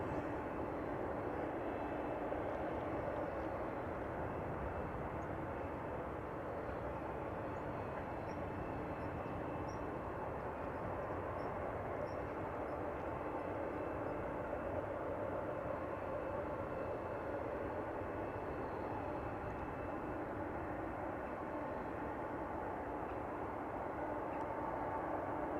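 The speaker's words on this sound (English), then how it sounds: "the Saudi Dreamliner arriving from Jeddah is going to the recently opened runway 36 right" A Saudi Boeing 787 Dreamliner arriving from Jeddah approaches runway 36 right at Amsterdam Schiphol airport, a steady, broad, distant jet roar that holds evenly throughout with no voices.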